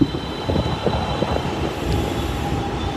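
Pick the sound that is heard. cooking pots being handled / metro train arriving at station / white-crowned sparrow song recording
metro train arriving at station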